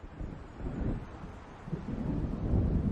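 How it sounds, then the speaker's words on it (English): Low, continuous rumble of thunder from an approaching storm in the video game Alan Wake, swelling and rolling with wind-like noise throughout and growing slightly louder toward the end, with no voices. "It seems there's a storm coming."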